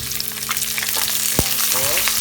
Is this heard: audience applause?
no